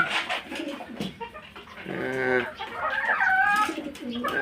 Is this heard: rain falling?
no